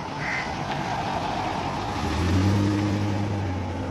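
A car drives past on a residential street where birds are squabbling, a broad rush of road and engine noise that swells toward the end with a low tonal drone as it nears, no voices present.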